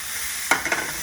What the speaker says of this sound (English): I'm going to put the tomatoes in.